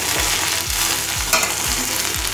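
Green beans, broccoli and peas for chowmein fry in a hot pan with a loud, hissing sizzle, punctuated by a steady rhythm of dull thumps from stirring.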